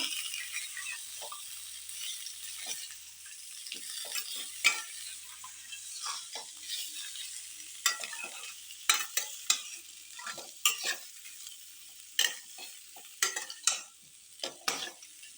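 Potato fry with chili powder cooks in oil, giving a soft continuous sizzle under repeated sharp scrapes and clacks of a spoon stirring against the pan. The stirring grows busier toward the end.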